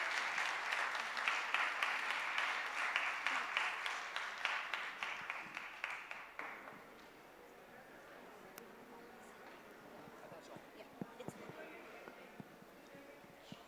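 Audience applause welcoming speakers Dan Jones and Christopher de Hamel at the Jaipur Literature Festival, a loud, dense crowd clapping that slowly fades and stops about halfway, leaving a quiet room with faint scattered sounds.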